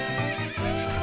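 A horse in the video game The Legend of Zelda: Ocarina of Time gives a loud, clear whinny lasting about a second, heard on its own with no talk.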